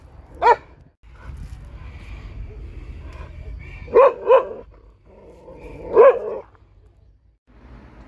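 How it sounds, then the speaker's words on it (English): Several angry dogs bark at a neighbour's small dog in a field in Thailand, with three loud separate bursts of barking over a low rumbling background. "the dog's very angry, fighting with each other after they get angry"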